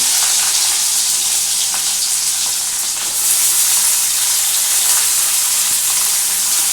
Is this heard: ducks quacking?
no